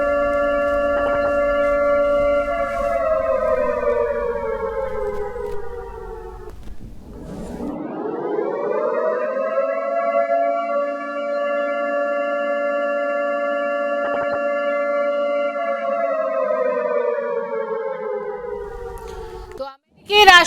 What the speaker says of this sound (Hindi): ईरान के हमले के बाद अब इलात में सायरन बजे हैं